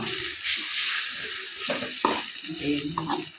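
Soya chunks curry with ground chili powder sizzles in a pan as a spoon stirs it, giving steady frying hiss and several scraping strokes up close, with no one talking.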